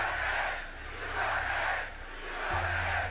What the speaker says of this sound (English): This is a big, beautiful crowd.